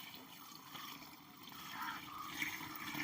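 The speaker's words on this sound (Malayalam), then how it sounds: "നമുക്ക് ഇതിലേക്ക് കുറച്ച് വെള്ളം ഒഴിക്കണം" Water poured from a half bucket into an organic slurry mix, a steady soft trickling and splashing that swells slightly toward the end, close and fairly quiet with no talking.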